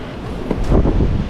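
Strong wind roars across the microphone while sailing after gusts over 50 knots eased to the mid 30s, a loud, close, continuous rushing buffet.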